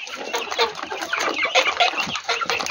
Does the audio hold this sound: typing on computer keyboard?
no